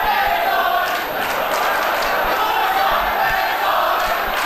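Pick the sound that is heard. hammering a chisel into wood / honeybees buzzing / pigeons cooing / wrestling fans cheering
wrestling fans cheering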